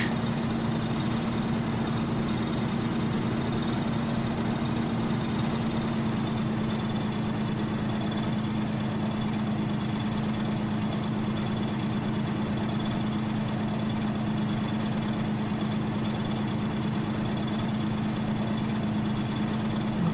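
A Zlin Z-43 light aircraft engine idling in Flight Simulator X, a loud, steady low drone with a constant hum and faint high whine, unchanging throughout with no voices.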